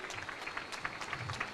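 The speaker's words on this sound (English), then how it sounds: "Round of applause, ladies and gentlemen." Applause from the audience at the official launch of the ODP Strategic Plan 2023-2027, a short, fairly quiet burst of clapping with a few sharper claps standing out and faint low voices underneath.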